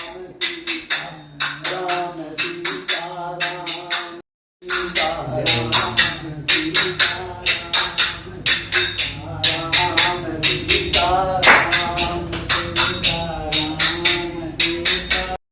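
In a temple at Chitrakut, voices chant the Sitaram name in continuous sankirtan, a rhythmic, pulsing repetition close and fairly loud, broken by one brief pause before the chanting resumes.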